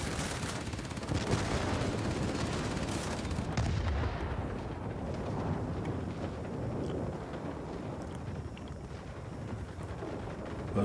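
Warplane rockets slam into targets in World of Warplanes, a series of heavy explosive blasts that fade into a rumbling, roaring backdrop of engine and battle noise.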